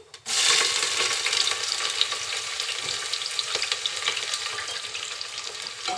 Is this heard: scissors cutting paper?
no